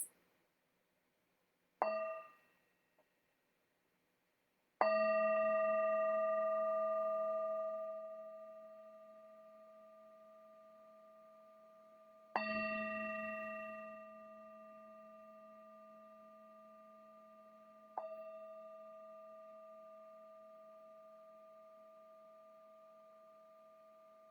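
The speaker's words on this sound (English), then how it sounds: "So I'm going to invite the bell 3 times." A mindfulness bell struck three times in a quiet room, each strike a clear metallic ding with a long sustained ringing tone that slowly fades, preceded by a brief light tap.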